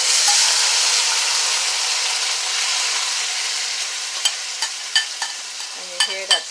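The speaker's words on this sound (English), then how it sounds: "And you hear that sizzle. It's telling you the pot is ready." Marinated meat fries in a hot pan for a Guyanese chowmein with a loud, steady close-up sizzle that slowly eases, then sharp scraping clicks of stirring break in near the end.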